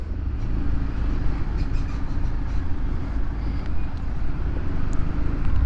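Steady, loud road roar surrounds a Honda Forza scooter riding in heavy, backed-up traffic, a continuous low engine and traffic rumble with no pauses throughout.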